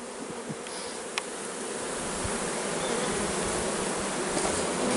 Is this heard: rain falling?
no